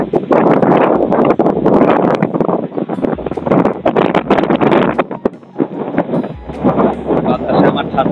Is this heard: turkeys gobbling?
no